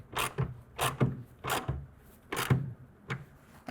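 A half-inch ratchet tightening a clamp on a Gator EFX hard folding tonneau cover on a GMC Sierra pickup, several rhythmic clicking bursts in quick succession, close and clear without speech.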